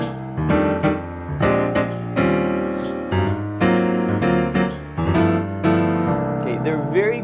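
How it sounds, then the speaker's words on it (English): Jazz piano playing dominant seventh chords, a series of ringing chord strikes in an uneven rhythm, each one sustaining and decaying before the next, heard alone and close. "dominant 7th chords sound like this"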